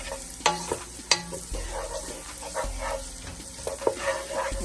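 Onions frying in a pan for salmon and rice are stirred with a spoon, producing a continuous sizzle broken by several sharp scraping clanks, close-up and fairly loud with no talk.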